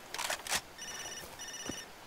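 Telephone rings in the video game Far Cry 2, two bursts of a bright electronic ringtone after a few soft clicks, close and clear with no talking.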